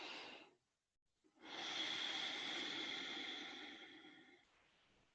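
Close, quiet breathing: a short exhale, a pause and a brief inhale, then a long, airy breath out through the nose or mouth that slowly fades.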